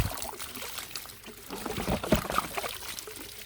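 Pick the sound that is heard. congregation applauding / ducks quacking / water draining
water draining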